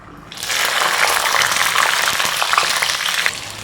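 Dried red chillies and green chillies crackle and sizzle steadily in hot oil while a bitter gourd fry is cooked, a dense, close frying hiss that starts abruptly and holds at full strength throughout.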